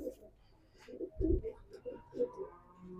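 Fancy pigeons of a Fauji Butari blood line cooing softly in a loft, a few low rounded coos rising and falling in quick succession, faint and fairly close, with murmuring voices around them.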